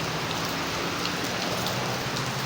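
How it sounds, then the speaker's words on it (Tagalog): Steady rain pours down in a dense, even hiss that fills the whole stretch without a break, close by and moderately loud, with no voices over it. "Ay, umulan pa."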